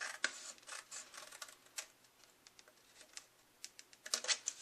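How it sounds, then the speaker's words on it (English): Scissors snip a paper card flap along a score line, soft crisp ticking cuts in an irregular quiet sequence, close by and with no talking. "I'm just going to cut on that score line, right up to that cut right there"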